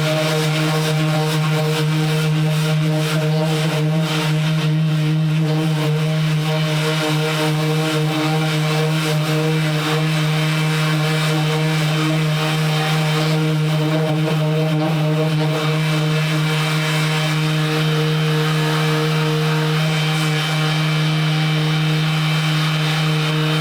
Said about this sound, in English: All right, let's go ahead and sand this 80 grit.